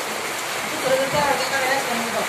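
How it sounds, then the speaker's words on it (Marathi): Rain patters in a steady, close wash of noise, with a faint voice murmuring underneath. "पाऊस येते या पाऊस"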